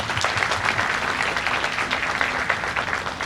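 An audience at a signing day ceremony for the East Alabama FAME program gives a round of applause, many hands clapping in a continuous, full wash with no speech on top.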